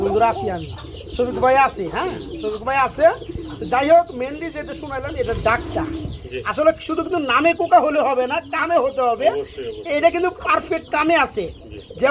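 Pigeons coo and other fowl cluck at a bird market stall, with repeated throaty calls close by mixed with people talking throughout, against a busy background.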